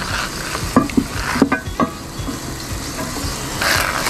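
Steel wool scrubbing the bottom of a cast iron skillet being restored, heard as short rough scraping strokes in irregular bursts, close and fairly loud, with no talking.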